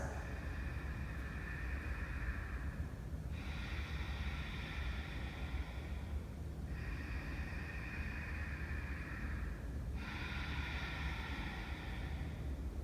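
Slow, deep yoga breaths in a steady rhythm, about four long cycles a few seconds apart, soft against a constant background hiss with no talking.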